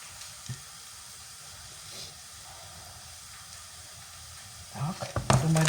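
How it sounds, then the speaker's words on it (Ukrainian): A steady sizzling hiss of onions frying in oil runs throughout, with a brief voice and clatter near the end. "Так, цибульку поставила, вона смажиться."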